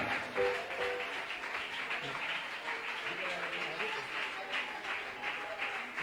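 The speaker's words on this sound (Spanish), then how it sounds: "dale ese aplauso al Rey de la Gloria" A church congregation at a Spanish-language worship service applauds. The clapping is a steady wash at moderate volume, blended under voices and the ongoing sound of the service.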